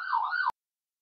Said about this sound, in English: there was some sort of siren out